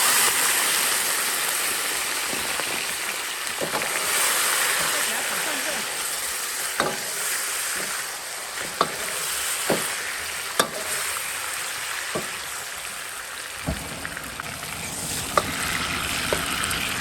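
Sugar cooks in a hot wok to make caramel colour, giving a continuous bright sizzling hiss broken by occasional sharp clicks and taps from a utensil against the pan.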